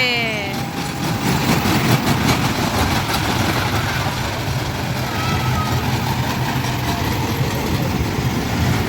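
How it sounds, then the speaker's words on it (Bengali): A safari park ride train rolls slowly, giving a steady loud mechanical rumble and engine drone that holds throughout without pauses. "ট্রেনে চড়ে বসা হয়েছে স্লোলি স্লোলি আস্তে আস্তে ট্রেন চলছে"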